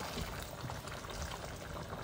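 Chicken wings simmering in a covered pot with a little added water, for a dish with chayote and carrots; a steady, close bubbling and sizzling hiss runs continuously without speech.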